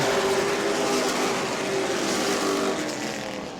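Modified race cars roar around the Auburndale Speedway oval, a loud, continuous engine drone from several cars that slowly fades slightly as the pack moves away.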